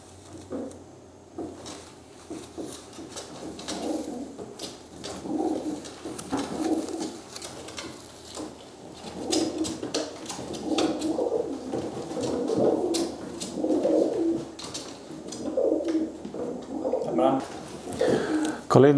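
Racing pigeons coo softly in repeated low, throaty bursts, growing louder and more frequent toward the end, with faint patter and a person speaking.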